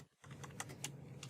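Typing on a stiff computer keyboard, a quick run of close, distinct key clacks at an uneven pace over faint room hum.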